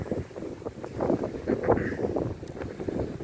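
Strong wind buffets the microphone on the shore of Puck Bay near Kuźnica, a steady close rumble with gusts rising and falling throughout, no voices.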